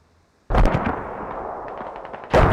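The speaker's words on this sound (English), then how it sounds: "There's the mortars over here." Mortar fire in the military shooter game Squad: a sudden loud blast opens a long rumbling decay, then a second heavy boom lands at the end.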